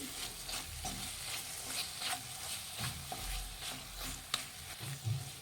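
Mashed potato is stirred into egg kurma in a pan, soft scraping stirs over a gentle sizzle, with a few sharper knocks of the utensil near the end.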